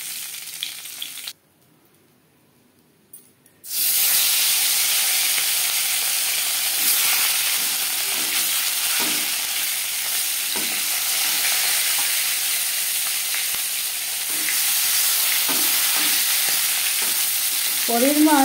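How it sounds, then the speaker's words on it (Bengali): Tilapia fish sizzles steadily in hot oil in a pan, a loud continuous frying hiss that starts abruptly after a short quiet pause and carries on with faint stirring and scraping underneath. "পরের মাছ একইভাবে ভেজে নেব।"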